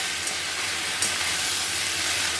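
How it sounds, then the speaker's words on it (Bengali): Spices sauté with cauliflower and potato in a pan, giving a dense, steady, close sizzle with a couple of faint stirring clicks and no talking. "ভালো করে মশলাটা ফুলকপি আলুর সঙ্গে কষিয়ে নেব"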